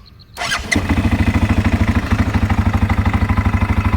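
A CFMOTO X625 ATV engine cranks and catches after a short whirr, then settles into a loud, rapid, steady idle close by.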